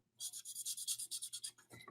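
A marker or pen colouring in a stamped image on paper, quick rhythmic back-and-forth scratchy strokes, about a dozen close, dry rasps in a quiet room before a brief pause.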